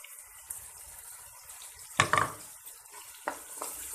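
Chicken pulao with added yogurt fries in a pot, a faint, soft sizzle broken by a few sharp clatters and scrapes of a spoon stirring.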